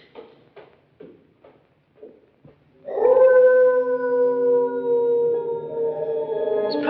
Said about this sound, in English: probably a dog caught in a trap